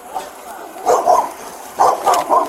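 Dogs bark outdoors in two quick bursts of three or four barks, moderately loud and a little distant, set over steady background noise.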